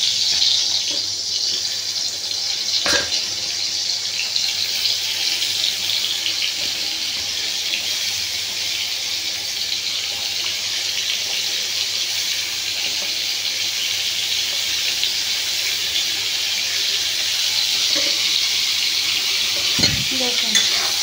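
Pointed gourds fry in hot oil in a kadai with a loud, continuous hiss of sizzling, steady and close, broken only by an occasional faint clunk.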